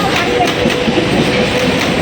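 A passing train rumbles steadily with rolling wheel noise and faint clatter, loud and close throughout, with no talk.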